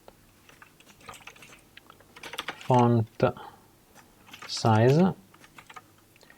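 Computer keyboard keys tapped in soft, irregular clicks while coding plotting settings in Python, with a voice talking over the typing.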